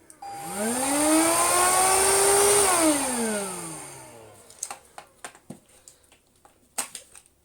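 A Hoover Freedom FD22RP cordless vacuum's brush spins up with a rising whine, holds a loud steady hum, then winds down and stops, followed by several sharp clicks and knocks close by.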